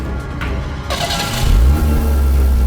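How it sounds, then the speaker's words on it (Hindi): An old car engine catches after being push-started on a deserted road at dusk, a short sputter then a low rumbling idle that grows louder, close by. "धक्का लगा देते हैं, फुर्र से शुरू हो जाएगी।"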